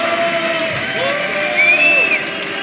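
A studio audience at a panel show cheering and whooping, a steady crowd roar with shouts rising above it, loud and continuous.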